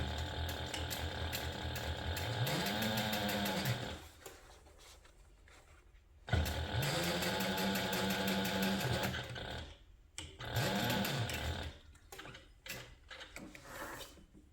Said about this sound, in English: top stitch through the bottom of the side panel using an 1/8 of an inch seam allowance